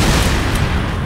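Rocket explosion in Resident Evil 5, a loud, dense, close blast of booming roar that holds for about a second, with no speech over it.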